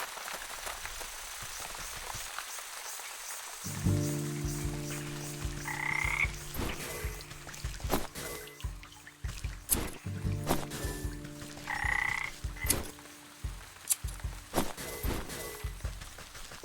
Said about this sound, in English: Frog. Get over here.